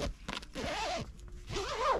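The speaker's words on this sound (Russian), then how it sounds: "Либо уменьшается за счет молнии" A zipper on the hood of a Luxmom 770 2-in-1 stroller is pulled in several quick, close rasping strokes, soft and alone with no talk.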